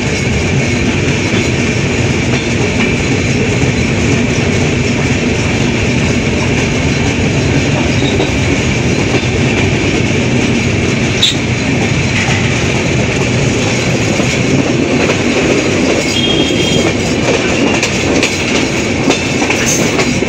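An intercity express train rolls along the rails near Saidpur railway junction, Bangladesh, with a constant, loud rumble and faint rhythmic clacking, heard close and steady throughout.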